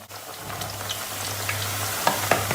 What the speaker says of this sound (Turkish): Ara ara karıştıracağız her tarafının eşit bir şekilde kızarmasını bekleyeceğiz.